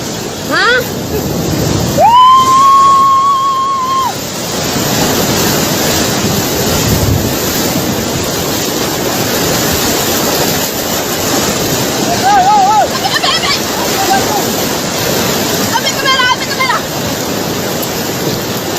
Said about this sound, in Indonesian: Tadi hantam ombak bono.